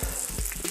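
Lamb sizzling in a hot pan with wine, a loud close hiss and crackle of frying with brief bursts of stirring.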